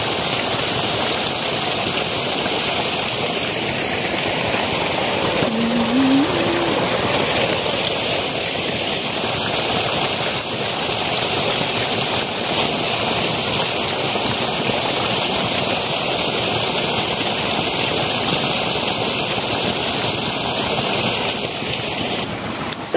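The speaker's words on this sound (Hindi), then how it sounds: "पानी की आवाज़ से कुछ सुनाई नहीं दे रहा होगा।" Heavy stream water rushes and roars steadily and loudly in a hill area in India, a constant broadband wash that drowns everything else for the whole stretch.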